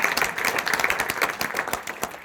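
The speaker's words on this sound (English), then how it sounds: "So if you guys give them a round of applause, it would be great." A round of applause from the audience at a network marketing talk, with dense, steady clapping that stays loud from start to finish.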